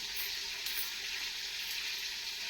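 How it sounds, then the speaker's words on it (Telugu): Dried red chillies tempering in hot, foaming peanut oil give off a steady, close sizzle that holds at an even level throughout, with no talk. "ఇందులో కొంచెం మనము టేస్ట్ కోసము ఒక 4-5 ఎండుమిర్చి వేసుకుందాం తాలింపులోకి"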